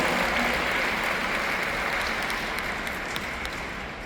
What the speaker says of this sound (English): Big applause to our team also.